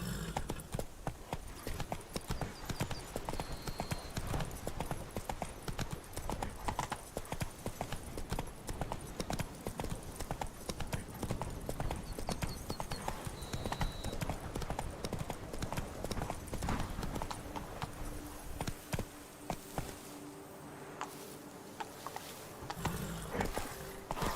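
Horse hooves clip-clop at a steady trotting pace in Witcher 3: Wild Hunt, a brisk, even rhythm of hard strikes close by. The steps carry on without a break over faint ambient game sound.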